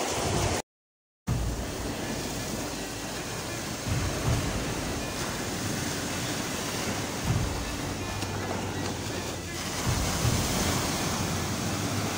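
Sea waves at a beach in Zambales, a continuous wash of surf mixed with wind buffeting the microphone, with swells rising and falling and a brief dropout near the start.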